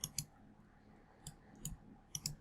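Computer mouse clicks while working in Rhino software, several sharp, quiet clicks, some in quick pairs, close and alone in a near-silent room.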